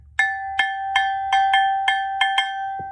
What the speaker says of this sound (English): So the music world took a cowbell and adapted it to make a percussion instrument.